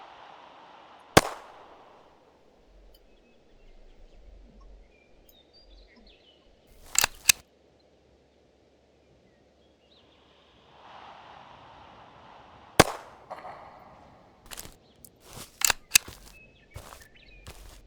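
Sharp gunshots in the hunting game Open Hunting XL: single cracks spaced seconds apart, then a quicker cluster of shots near the end, loud and close over a quiet windy outdoor ambience.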